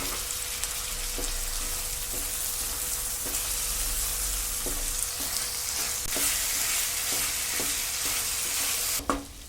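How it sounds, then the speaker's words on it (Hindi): Boiled chickpeas fry in spices in a pan with a steady sizzle, while a spoon scrapes and stirs in regular strokes about once a second, ending in a louder clatter. "अब इसमें बॉईल किए हुए चने ऐड करेंगे ताकि ये मसालों में अच्छी तरह मिक्स हो जाएं।"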